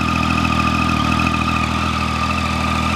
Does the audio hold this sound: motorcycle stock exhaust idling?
yes